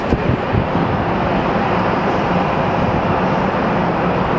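Airplane landing at Phoenix Sky Harbor International Airport, a loud, steady broadband engine roar that holds close and constant throughout with no talking.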